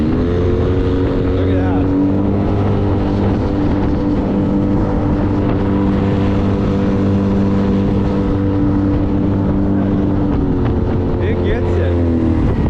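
A Yamaha T25 high-thrust kicker outboard pushes a 2006 Willie Boats 22 Open Sport Jet boat, giving a steady, loud harmonic engine drone throughout with a slight pitch shift near the end, while people speak over it.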